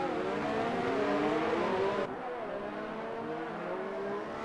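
Formula 1 race cars in a Monaco Grand Prix racing video game roar with high-pitched revving engines, loud and continuous, the pitch sweeping up and down before a sudden drop to a quieter engine drone halfway through.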